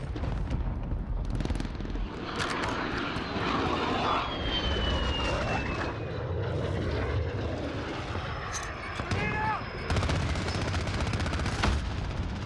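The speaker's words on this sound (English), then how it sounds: "Got the VTOL on station, ready to deploy." Airborne VTOL killstreak in a Call of Duty Modern Warfare team deathmatch, a steady loud engine drone layered with bursts of gunfire and explosions throughout.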